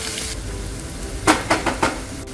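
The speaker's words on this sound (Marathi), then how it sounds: "आलं लसूण पेस्टचा कच्चा वास जाईपर्यंत परतायचं" Chopped tomato sautéing with ginger garlic paste on a tawa gives a steady low sizzle, broken by a few short scraping stirs near the end.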